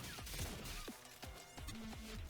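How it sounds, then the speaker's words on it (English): A big area-effect explosion in the fast-paced bullet-dodging game Autogun Heroes: sharp crashing bursts and thuds over a busy layer of constant game effects, fairly loud with several impacts in quick succession. "this guy does a big area effect explosion."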